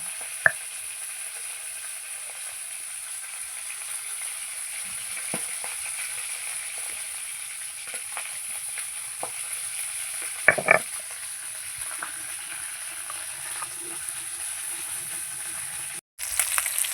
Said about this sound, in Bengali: বাদ বাকি মাছগুলো আমি ভেজে নিচ্ছি